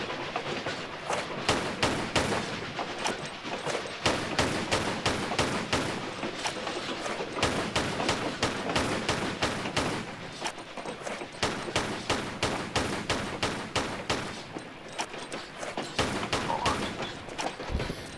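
Gunfire in the PC game Tomb Raider 4: rapid bursts of sharp, punchy shots in fast repeating volleys, loud and close, with brief pauses between strings of fire over a low rumble.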